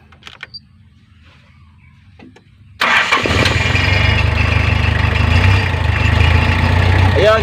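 A car engine cranks and catches after a few seconds of quiet, then settles into a loud, steady idle with an off-sounding engine note that fills the rest of the clip.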